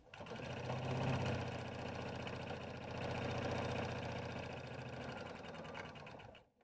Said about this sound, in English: Next, we're going to step to our machine and stitch our sides.